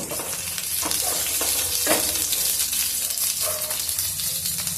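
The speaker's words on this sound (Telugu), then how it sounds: "నిదానంగా వేయించుకున్నాము పచ్చిమిరకాయలని కొద్దిగా వేయించుకున్నాము పచ్చిమిర్చిని" Green chillies frying slowly in oil in a pan, a steady close sizzle with occasional spatters and stirring scrapes, no talking.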